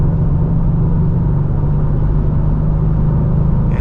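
A 2025 EcoBoost Mustang drones steadily from inside the cabin, a loud, even low rumble with a constant engine hum that holds the same pitch throughout, and no talking.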